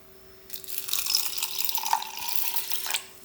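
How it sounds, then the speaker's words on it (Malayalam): Water pours from a tap for a few seconds to soak lentils, a steady splashing stream that starts suddenly and stops, close and fairly soft. "കുറച്ച് പരിപ്പ് എടുത്തിട്ട് ഒന്ന് വെള്ളത്തിൽ കുതിർത്തിടണം"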